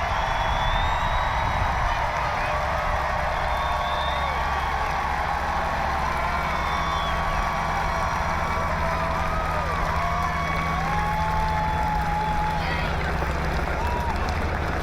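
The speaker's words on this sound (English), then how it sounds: "As you can hear, the crowd is cheering." Crowd of fans cheering and shouting outdoors as a national championship basketball team steps off its bus, a steady wash of voices with scattered whistles and claps, continuous and moderately loud.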